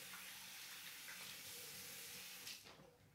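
Running tap water splashing in a sink during a hand wash, a faint steady hiss that continues for about two and a half seconds before tapering off.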